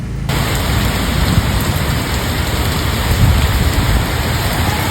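Heavy rain pours down in a dense, continuous roar, loud and close, with no voices.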